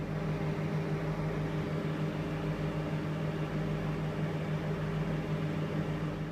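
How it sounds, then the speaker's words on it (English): A microwave oven runs while it heats a treacle sponge pudding, a steady, even mechanical hum with a faint whir that stays constant throughout, close and unbroken with no voices. "It's going to go in the microwave for 5 minutes"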